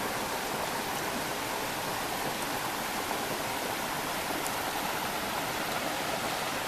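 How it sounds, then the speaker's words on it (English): The Conway River headwaters stream flows at a campsite, a steady broadband rush of water running continuously and fairly close, with no talk. "Headwaters of the Conway River."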